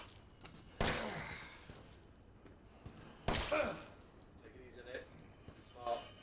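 Glock pistol shots in the video game Resident Evil 7, two sharp, loud single reports a few seconds apart, each trailing off, amid faint game sounds and brief voices.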